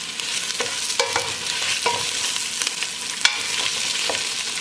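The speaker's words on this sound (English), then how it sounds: "we're just gonna saute, if you will, our sausage here just to get it seared" Vegan sausage sears in a hot pan with a loud, dense sizzle, and a spatula occasionally scrapes and stirs through it.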